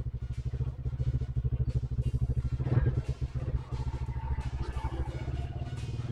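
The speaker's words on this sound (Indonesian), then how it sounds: "Tak manasin mesin." A motorcycle engine idles while warming up, a close, loud, rapid pulsing exhaust beat that stays steady throughout with a brief rise partway and some mechanical clatter.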